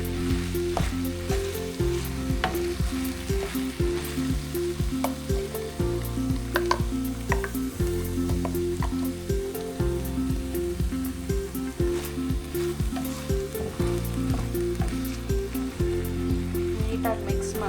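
Vegetables and masala stirred and fried in a pan for vegetable donne biryani, a steady loud sizzle with repeated scraping strokes of the spoon over background music.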